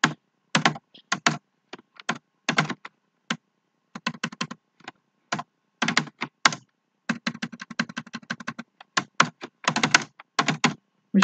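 C++ code being typed on a computer keyboard, heard as close, crisp key clicks in quick bursts and short runs separated by brief pauses, with no voice.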